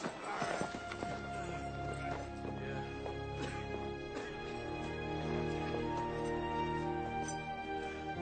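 Several horses move off at a clip-clop on a dirt street in an Old West town, hoofbeats steady but partly buried under a swelling orchestral score.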